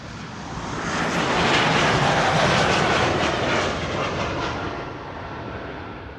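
An Embraer E2 jet at Amsterdam Schiphol passes with a loud, broad engine roar that swells to a peak and then eases off, continuous and without talk.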